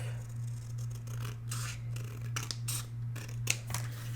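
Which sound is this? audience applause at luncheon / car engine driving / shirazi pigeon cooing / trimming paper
trimming paper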